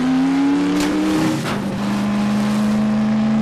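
A car driven in the video game Half-Life 2: Episode Two, its engine droning loud and steady close by, the pitch slowly rising and dipping with a brief rush of wind or gravel in the middle.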